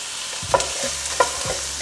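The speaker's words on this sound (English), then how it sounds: "Go ahead and toss these guys around" Sausages sizzle in a hot skillet while a spoon stirs them, with two sharp scraping strokes against the pan.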